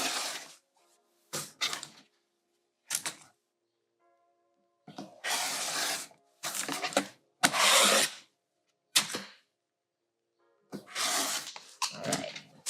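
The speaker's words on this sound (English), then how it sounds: "just trimming the excess interfacing away here" Scissors trimming excess fabric interfacing produce a series of separate close bursts of crisp cutting and rustling, with short silent gaps between snips.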